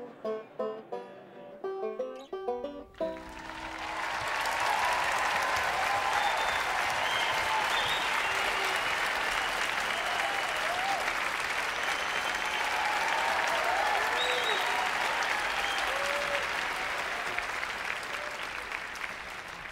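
Loud, sustained applause with cheering from a large concert audience at a live folk music evening in New York City, following a few seconds of acoustic music and continuing unbroken throughout.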